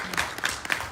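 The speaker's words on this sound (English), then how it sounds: "we should give a round of applause to them" Applause from an evening audience at a London book launch, a short burst of dense, steady clapping from a crowd.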